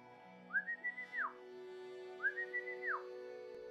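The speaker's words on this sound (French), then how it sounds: "J'aurais juré avoir entendu le sifflement avec lequel j'appelais mon chien, venant de la lisière de la forêt." A whistle used to call a dog sounds twice, each time a clear rising-then-falling call made of several quick notes, with a pause between the two calls and a steady low hum underneath.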